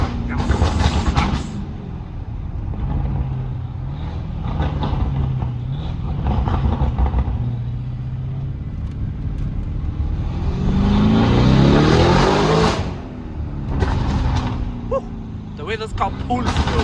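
A Novitec-tuned Lamborghini Urus with a 4-liter V8 and loud custom exhaust accelerates hard, its engine note rising in a sweeping climb around the middle, with a steady road drone and voices talking over it.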